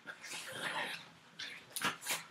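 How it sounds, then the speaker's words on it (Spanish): Dogs whimpering and yipping in a home, a few short high whines with brief pauses between them, moderately close and with no talk. "como siempre, mis perros"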